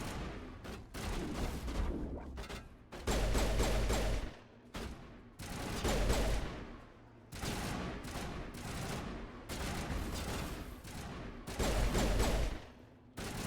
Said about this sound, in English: they're just shooting randomly at the Geth who are in cover